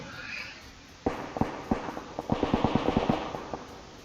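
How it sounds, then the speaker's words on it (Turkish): Bursts of rapid gunfire in the video game PUBG Lite crackle in quick, uneven volleys, several shots close together and fairly loud, with a faint hiss behind them. "silah sesleri botların kendi aralarında çatışma çıktığını gösteriyor"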